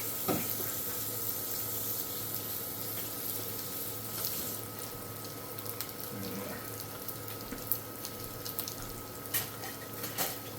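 Tap water runs steadily into a kitchen sink as hands are washed during cooking, a continuous close splashing hiss with small shifts as the hands move under the stream.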